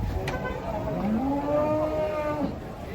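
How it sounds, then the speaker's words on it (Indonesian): Cattle being unloaded from a truck, with one clear drawn-out moo rising and falling in pitch amid background bustle and faint voices, moderately near. "Sapi super pada datang"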